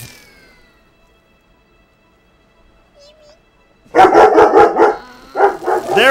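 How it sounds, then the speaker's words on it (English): Dog barking in a Munch's Oddysee video game session: a burst of repeated loud, close barks starts after several quiet seconds and continues in clustered yelps to the end. "There was nothing for you to bark at!"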